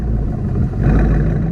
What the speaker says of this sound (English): it definitely feels like it has that sort of like a little slight lope to it when you're sitting here at idle